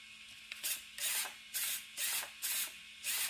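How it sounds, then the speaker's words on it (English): The steering servo of a Team Corally Python XP 6S RC car buzzes in about six short, evenly spaced whirring bursts as it bumps out at full lock. "the steering servo is bumping out"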